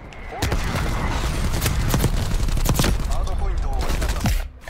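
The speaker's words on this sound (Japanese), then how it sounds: "敵の砲撃。" Enemy artillery bombardment in Call of Duty: Black Ops Cold War rumbles continuously, with sharp blasts and gunfire cracks scattered through the loud, dense barrage.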